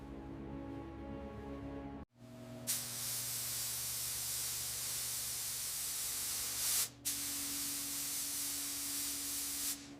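Steady loud hiss of a spray gun laying a final blue coat on a Thomas Flyer car under restoration, running almost continuously with a short gap near the start and a brief pause later.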